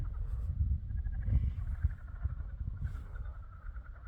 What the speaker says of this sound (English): I hear some bullfrogs out there.